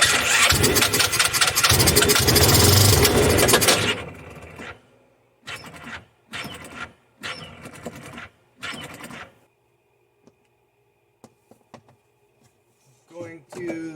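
Supermach 700 UTV (Hisun HS 700) engine cranking and catching after a carburetor install, running loud for a few seconds, then several short revving bursts and sputters before falling quiet with faint clicks.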